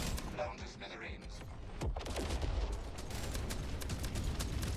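A spaceship in a video game is hit by fire from a beam cruiser, making bursts of crackling weapon impacts and mechanical clatter in a busy mix under game sound and voices.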